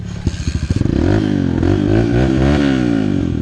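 Carbureted trail motorcycle on a ride through a burned forest, starter cranking in a quick rattling burst before the engine catches and roars into a loud, steady close-up rumble.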